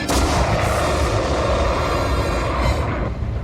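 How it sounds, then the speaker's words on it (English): A cartoon proton beam weapon fires with a loud, sustained roaring blast of broadband energy that holds for about three seconds before abruptly cutting off. "Proton beam is up to speed. Lock on coordinates. Fire!"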